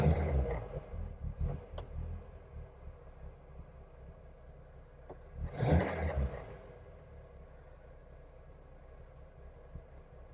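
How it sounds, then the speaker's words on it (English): A Ford Cortina GT Mk1 engine idles after start-up, a low steady rumble with a brief louder rev swell in the middle before settling back to a smooth idle. "I'm going to start the car up for you"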